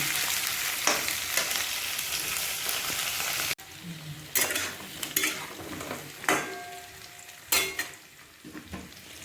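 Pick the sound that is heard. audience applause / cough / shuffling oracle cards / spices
spices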